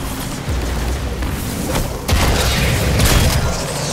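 Shotgun blasts in the video game Destiny 2, loud booming reports with a heavier blast near the middle and another shortly after, over dense game background noise.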